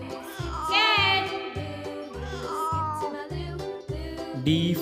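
A cat meows repeatedly, several drawn-out, rising mews in succession, fairly close, over a steady backing beat from a children's alphabet song.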